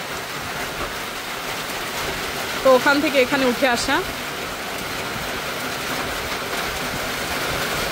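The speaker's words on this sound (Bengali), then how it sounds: "বৃষ্টি পড়ে সব ঘাস সব ভিজে যাচ্ছে।" Rain falling on grass outdoors makes a steady, even hiss that fills the whole scene, with a brief stretch of speech partway through.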